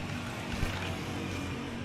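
A motorcycle engine drones steadily nearby on a street, giving a continuous rough rumble with broadband noise and no clear pause.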